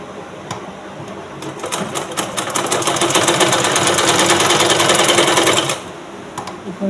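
A sewing machine stitching a blouse seam, needle running in a fast, even mechanical chatter that starts after a few short taps, builds and holds for about three seconds, then stops with a couple of light clicks after.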